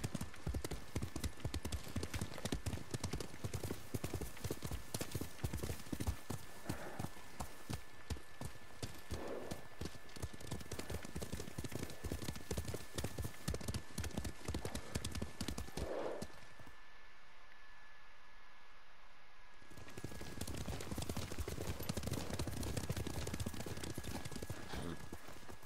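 Horses galloping in the Ghost of Tsushima video game, a fast, steady clip-clop of hooves with a low rumble that drops out briefly near the end, then resumes.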